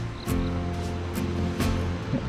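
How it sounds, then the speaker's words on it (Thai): Steady rushing water fills the background at Pasak Jolasid Dam in Thailand, a broad continuous roar like a waterfall, with a few louder surges and faint voices underneath. "เราได้ยินเสียงน้ำตกฮะ"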